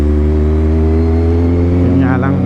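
A loud exhaust (tambutso) drones steadily while driving, a deep, even rumble close to the listener, with a voice briefly speaking over it near the end.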